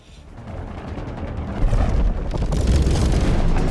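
Bombs exploding inside a tunnel in the video game Split Fiction: a rising, sustained roar of booming blasts and deep rumble that swells and stays loud, with no clear pauses between detonations.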